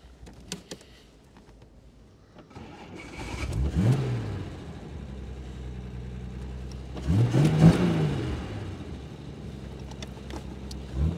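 A 1964 Jaguar Series 1 Roadster's 3.8 liter engine, still cold and running on choke, is heard from the passenger seat as a low drone that swells into two rising revs before settling back.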